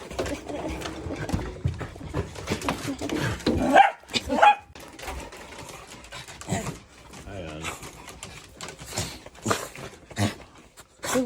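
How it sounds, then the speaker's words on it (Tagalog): A dog barks and whimpers in short, scattered bursts, one louder yelp near the middle, amid ongoing talk and household noise. "Nagwala na yung aso."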